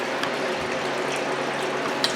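A gold recovery shaker table runs at an overly fast setting, with a jet drive in the water and wet dredge material on the deck, making a steady mechanical rattle with water wash that stays even throughout, with faint clicks.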